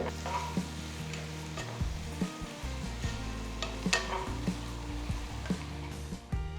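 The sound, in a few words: stirring vegetables cooking in butter in a pan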